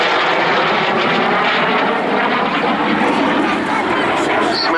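An F-86 Sabre jet makes a final fast fly-past at the RAF Cosford airshow, a loud, sustained roaring engine rush that fills the whole stretch and swells and fades slightly, with a commentator talking over it.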